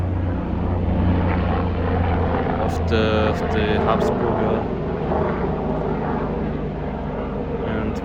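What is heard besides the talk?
helicopters flying over Habsburg castle park in Innsbruck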